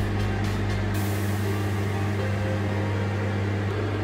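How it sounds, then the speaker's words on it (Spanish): A microwave oven set to 800 watts hums steadily and loudly while a yogurt sponge cake bakes inside, a constant drone with a low electrical buzz and no speech. "Introducimos el molde en el microondas y ponemos una potencia de 800 vatios y un tiempo de 10 minutos."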